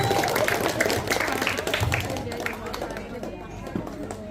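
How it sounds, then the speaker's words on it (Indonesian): A crowd at a neighborhood quiz competition held by the Pondok Randu youth forum claps in a dense, lively burst that tapers off, with a voice talking over the applause. "Jadi kita tepuk tangan dulu semuanya buat teman-teman yang udah ada di sini"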